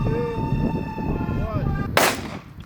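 One sharp, loud gunshot bursts out near the end, fired into a stack of paper, after a steady hum of background noise.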